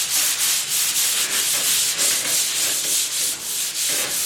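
Hand sanding of a surface being prepared for paint, with steady back-and-forth rasping strokes in a quick regular rhythm, loud and close with no voices.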